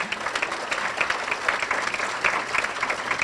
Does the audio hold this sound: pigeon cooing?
no